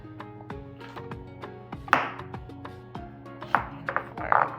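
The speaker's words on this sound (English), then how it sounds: "And I just like to cut them like this" A knife slices vegetables for callaloo soup on a cutting board, giving a series of crisp taps at a steady pace, close and fairly quiet, over a faint background hum.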